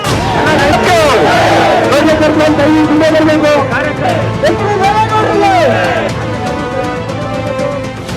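Dense crowd of supporters at an election nomination rally in Karnataka shouting and cheering slogans, a loud continuous roar of many overlapping voices with rising chant-like calls throughout.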